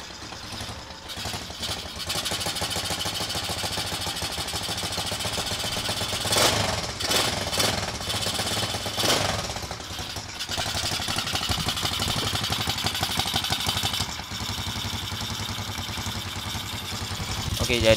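A Kawasaki ZX motorcycle engine runs steadily throughout, with a low idling rumble and a few louder revs, while people talk over it.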